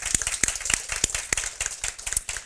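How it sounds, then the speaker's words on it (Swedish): Audience members applaud the speakers at the end of a Swedish talk on motivating volunteers, a fairly sparse scatter of distinct, sharp claps from a modest crowd, close and uneven in rhythm. "En varm applåd till dem."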